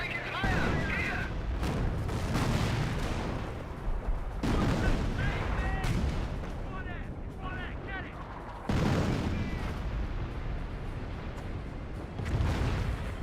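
A rocket barrage in the Company of Heroes video game pounds away in a dense run of booming artillery blasts and crackling explosions, with a voice talking over the battle.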